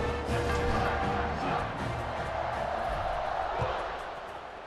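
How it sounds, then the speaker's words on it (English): Crowd cheering fills a football stadium during a college football video game matchup of Texas versus Miami, a loud steady roar that holds for several seconds and eases slightly toward the end. "this crowd is feeling themselves after that last drive"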